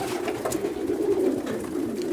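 Racing pigeons in a Utah loft coo steadily in a low, continuous murmur, several birds overlapping at close range with no talk.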